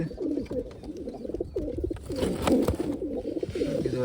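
Pigeons coo close by in a rhythmic, repeated throaty warble that rolls on without pause, several birds overlapping against low background noise.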